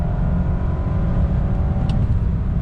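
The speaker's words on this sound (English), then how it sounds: "Give it some gas." A 2-liter four-cylinder turbo engine in an Alfa Romeo Giulia Ti Sport Q2, driven in Dynamic mode, drones steadily as the car accelerates, a continuous loud mid-low hum with road noise and no voices.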